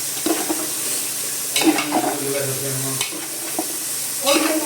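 Cabbage stir-fries in a hot pan for chowmein, with loud continuous sizzling, bursts of tossing and scraping, and a clank of utensils, heard close up with no talk.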